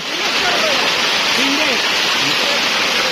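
Heavy rain pours down in a loud, steady roar of dense hissing, with a few faint voices barely audible beneath it.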